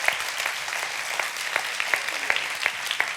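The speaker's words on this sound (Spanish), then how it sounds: "Se siente falso el aplauso, se siente forzado" A church congregation claps in a thin, sparse patter with a handful of sharper individual claps standing out, fairly quiet and uneven, with no voices over it.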